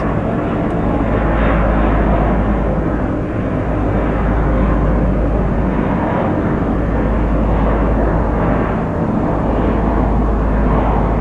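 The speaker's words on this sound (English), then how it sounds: "Got an airplane taking off out of Haneda." An airplane taking off from Haneda Airport over Tokyo Bay, a loud continuous engine roar with a deep low rumble and wind-like wash, steady throughout, heard from a boat with no talk over it.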